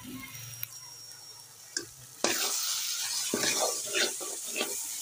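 Grated carrot halwa is stir-fried in a pan: a low hum at first, then a steady sizzle from about two seconds on, with scraping strokes of a spoon coming through now and then, close and moderately loud.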